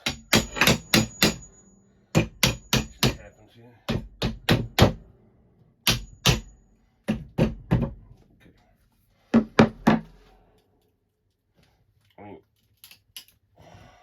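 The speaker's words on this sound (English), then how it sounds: "So let's try to hammer this further in" Sharp hammer strikes drive a wooden tool handle further in, landing in quick bursts of three or four, pausing between groups, with a brief spoken remark near the end.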